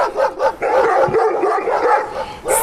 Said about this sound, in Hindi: सभी कुत्ते उसका पीछा करने लगे।